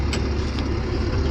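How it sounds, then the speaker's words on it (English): A heavy truck in 6-wheel drive churns across slick ground, its steady low engine rumble and drivetrain drone close and continuous, with faint scraping above. "Truck does not turn good in 6-wheel drive."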